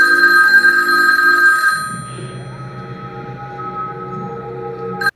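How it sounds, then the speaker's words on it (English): A payphone rings loudly and close in a scene from the 1999 film Fight Club, the electronic ring sustained for under two seconds before dropping to a low room murmur, then a brief click at the end. "So magically, the payphone is now getting a call back up."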